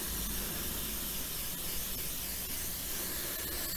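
Chain cleaner sprayed from an aerosol can onto a cloth during a Mk2 Golf sunroof repair, one continuous close hiss lasting several seconds with no talk.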